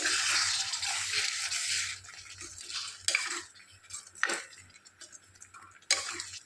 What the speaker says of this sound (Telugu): ధనియా పౌడర్ ఒక వన్ స్పూను ఒక హాఫ్ స్పూను జీలకర్ర పౌడర్ వేసుకొని కలుపుకుందాము మరొకసారి